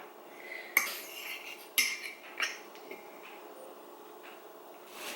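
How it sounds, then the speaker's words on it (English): A spoon scoops peanut butter into a mug cake, making a few faint, scattered clinks and taps against the mug with quiet scraping in between, in a hushed kitchen. "I'm gonna add my peanut butter and try to add this like in the center of our cake"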